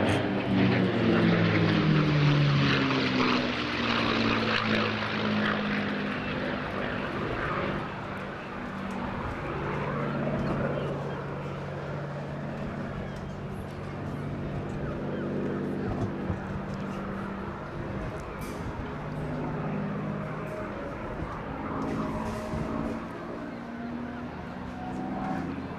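A P-51D Mustang "Warhorse" World War II fighter flies a summer-sky display, its propeller engine droning loudly throughout, loudest at the start and then holding a steady, slightly wavering roar as it passes overhead.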